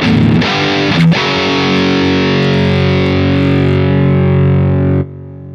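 An electric guitar played through the Spark 2 amplifier's dual rectifier amp model, with a loud, high-gain distorted chord struck and left ringing with a thick sustain for about five seconds before cutting off abruptly.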